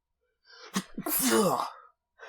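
A single close, sharp sneeze with a quick breathy intake before it, followed by a moment of quiet and a faint sound at the end.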